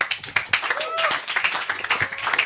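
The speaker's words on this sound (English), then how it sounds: "with a standing ovation and a round of applause" Audience applause with a standing ovation at a public welcome, brisk clapping rising and falling in bursts, with voices and a few whoops mixed in.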